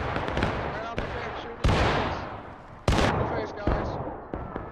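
Rapid gunfire in separate loud bursts, a quick volley up front, then single sharp cracks and short clusters about every second, each ringing briefly before the next shot.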